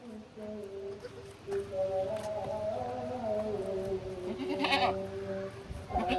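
A young goat kid bleats repeatedly in a village home in Azad Kashmir, the thin wavering cries close by while people talk around it.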